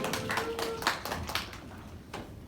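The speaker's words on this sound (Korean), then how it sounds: "우리 들어갈 때 다시 한번 박수로 들어가시면 되겠습니다" A small group of high school students at a church Sunday service claps for classmates celebrating birthdays, with irregular hand claps and a brief sustained tone early on, moderately close in a room.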